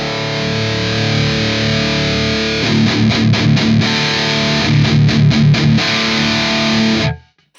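Distorted electric guitar through a cab simulation with an exciter effect set fully wet, chords ringing then a choppy rhythmic riff, loud and up close, ending abruptly.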